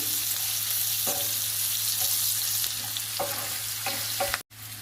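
Spices with turmeric frying in hot oil in a pan for a cluster bean curry: a steady, close crackling sizzle with occasional stirring scrapes, ending abruptly.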